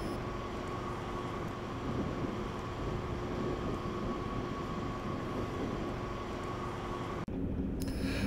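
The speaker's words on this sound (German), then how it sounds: "Mit VMAX 40 setzt sich der Zug in Richtung Kloster Mansfeld in Bewegung." A class 213 diesel locomotive of the Rennsteigbahn pulls a special train away from Ilmenau station, giving a steady, loud engine rumble with a sustained tonal hum throughout, then an abrupt cut near the end.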